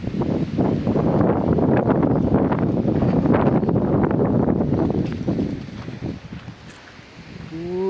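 Strong wind blows hard during a rainstorm, a loud continuous roar buffeting the microphone with rustling gusts that ease off toward the end.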